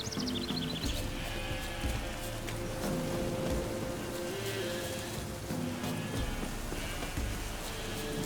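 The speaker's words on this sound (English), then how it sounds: "Looks like rain." Steady rain patters and hisses in The Witcher 3 game world, loud and continuous, with a low hum beneath and a few faint tonal game sounds.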